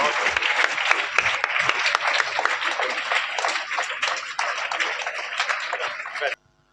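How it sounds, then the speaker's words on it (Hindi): Teachers at a school motivational seminar receive loud, sustained applause from a large audience of students, a dense wash of many hands clapping that continues for several seconds before cutting off abruptly, with faint voices mixed in. "जोरदार तालियों से हम सबका अभिवादन करें।"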